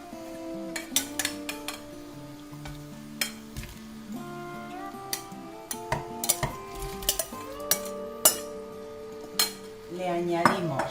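Cuttlefish going into a pot of cooked onions for a homemade stew, with clinks and scrapes of a utensil against the pot over a soft sizzle, several sharp knocks scattered throughout, no talking.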